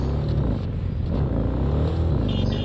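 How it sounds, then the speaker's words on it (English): A motorbike engine in Cyberpunk 2077 drones at a steady, loud low rumble that swells slightly as it revs, close up and without pause, with no talking. "And this bike sounds amazing too."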